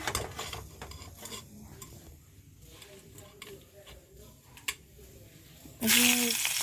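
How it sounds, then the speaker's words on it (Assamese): Quiet stirring and utensil scrapes in a pan, then a sudden loud sizzle as food hits hot oil near the end. "পিয়াজ দি দিলো মই তেলত"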